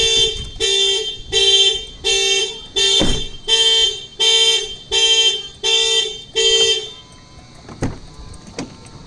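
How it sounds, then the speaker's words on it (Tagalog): A Mitsubishi Montero Sport force-entry car alarm sounds up close in eight loud, evenly spaced tonal bursts, then stops, leaving faint background noise and a couple of soft clicks. "So, nag-a-alarm siya."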